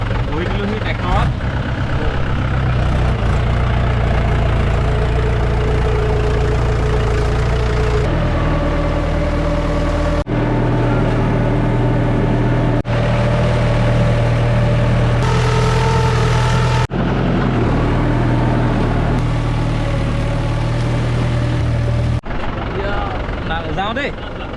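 A tractor engine runs steadily while someone rides it on a muddy trip, a loud, constant low drone throughout, with voices talking over it.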